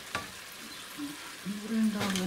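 Pasta water is poured into a pan of sizzling paprika cream sauce with salmon, giving a soft sizzle and bubbling that swells toward the end, with a brief clink of utensils.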